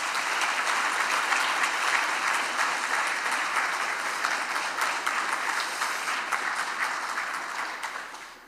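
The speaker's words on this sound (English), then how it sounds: "So if I could get another little round of applause for them," A conference audience applauds in a dense, sustained burst of clapping that stays strong for several seconds before fading at the close.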